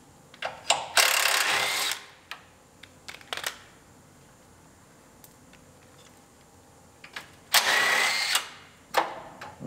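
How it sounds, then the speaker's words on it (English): Two long bursts of ratcheting tool noise loosen nuts and a bolt holding a washer bottle to a Lincoln MKT frame rail. Short clicks and taps fall between the bursts, and the whole thing is close and moderately loud. "Then we can unbolt it from the frame rail."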